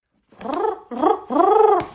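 Three loud, close, rasping dog snores follow one another in quick succession, with a throaty, nasal, rattling quality.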